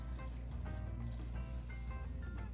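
Sweet vinegar-and-sugar pickle brine poured slowly into a jar, a steady close trickle and splash of liquid with faint dripping, with no talking.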